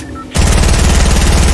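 Rapid automatic gunfire from a squad-based video game battle royale, a dense continuous burst that starts abruptly after a quiet moment and stays loud and rhythmic to the end.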